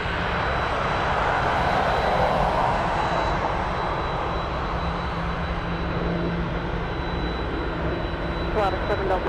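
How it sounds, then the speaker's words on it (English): A jet airliner's engines roar steadily and loudly at Anchorage airport, a broad sustained rumble with no letup. "We have so many arrivals coming in, and they're gonna take off."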